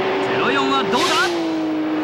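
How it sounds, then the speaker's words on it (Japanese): Nissan GT-R race car accelerating hard on a circuit during a 1995 N1-class battle, a steady engine tone climbing over a short burst, with a commentator talking over it. "GTR 絶好調、どんどん加速して"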